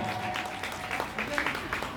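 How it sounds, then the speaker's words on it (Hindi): Audience applause for performers after a stage play, scattered claps over a crowd murmur, while a voice speaks over it in Hindi. "तालियां होते रहे कलाकारों के लिए"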